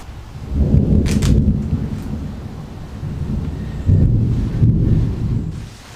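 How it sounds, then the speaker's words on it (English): Rolling thunder from a thunderstorm rumbles low and loud in two long swells, with brief sharper crackles near the start, and no talking. "I got caught in a thunderstorm"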